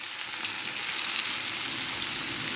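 Breaded shrimp fry in hot oil in a pan, giving a dense, steady, crackling sizzle that stays close and even throughout without any voices.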